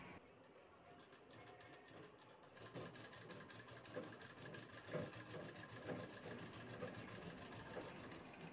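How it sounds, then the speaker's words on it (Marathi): A sewing machine runs steadily close by, stitching along one side of a folded single-layer blouse piece to make a bag. Its quiet motor picks up after a couple of seconds into a rhythmic mechanical whir, with no talking. "एक फोल्ड करून शिवून घ्यायचा आहे।"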